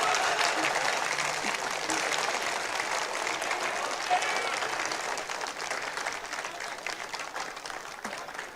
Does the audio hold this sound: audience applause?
yes